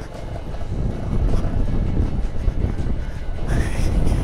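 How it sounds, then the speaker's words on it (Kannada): A Bajaj Pulsar 220 motorcycle rattles over a rough mountain road in Ladakh, its engine a continuous low rumble mixed with broadband wind buffeting and jolting clatter, loud and close throughout. "ಗಾಡಿ ಎಲ್ಲ ಡಗ ಡಗ ಡಗ ಡಗ ಡಗ ಡಗ ಅನ್ನೋದು."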